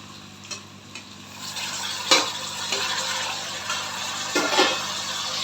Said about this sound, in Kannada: ಮೆಂತ್ಯ ಸೊಪ್ಪು, ಆನಿಯನ್ ಎಲ್ಲ ಚೆನ್ನಾಗಿ ಫ್ರೈ ಆಗಿದೆ.